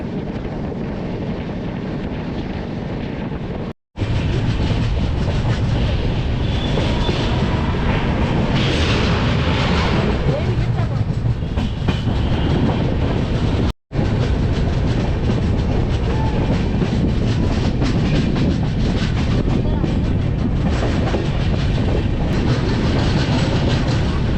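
Delhi SF Express train running on tracks between Pathankot and Jalandhar via Amritsar, a loud steady rumble with rail clatter heard from aboard, continuous apart from two brief dropouts.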